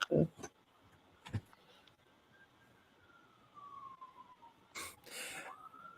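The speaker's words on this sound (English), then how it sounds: "I hear those sirens are coming to get us" Emergency vehicle siren wailing faintly in the distance, a thin rising and falling tone running under brief bursts of talk and noise.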